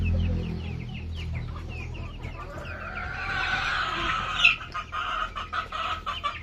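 Chickens cluck and murmur on a small farm, a hen's calls close by over a low background hum, with a sharper squawk near the end and no one speaking.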